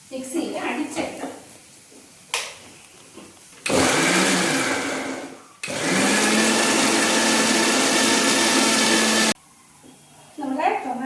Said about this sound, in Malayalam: ഇനി ഈ ടൊമാറ്റോ നമുക്കൊന്ന് മിക്സിയിൽ അടിച്ചെടുക്കാം.